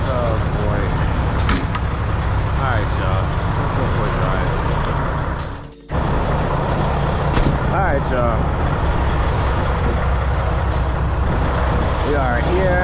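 A truck drives along at steady speed on a gloomy day, its engine a continuous low rumble with road noise, briefly dropping out near the middle; a voice speaks over it.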